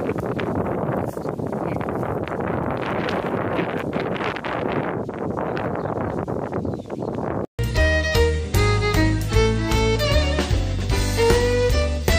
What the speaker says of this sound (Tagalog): Ayan, so malakas ang hangin guys.